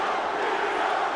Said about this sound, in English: Listen to the crowd chant Tito's name.